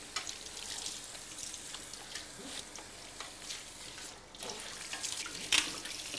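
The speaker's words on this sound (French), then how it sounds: "Donc, nous procédons au deuxième rinçage." Running water rinses a dog during a grooming bath at a pet groomer's, a steady faucet-like spray and splash with small shifts in flow, moderately quiet and steady throughout with no talk.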